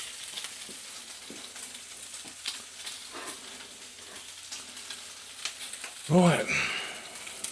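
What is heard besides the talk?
bacon and black pudding frying in a pan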